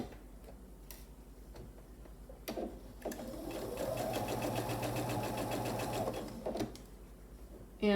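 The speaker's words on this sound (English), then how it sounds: "I'll just go ahead and stitch all the way down" A sewing machine stitches down a flannel receiving blanket, starting with a few ticking hand-turned stitches, then a steady close whirring run for about three seconds before slowing into clicks again, fairly quiet overall.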